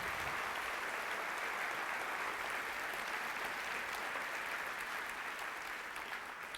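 A church congregation applauds steadily and loudly throughout, a dense, even wash of clapping with no breaks and no speech over it.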